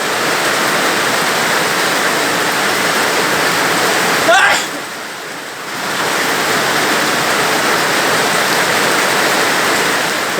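Heavy rain pouring, a loud steady broadband hiss that dips briefly midway before resuming at full strength.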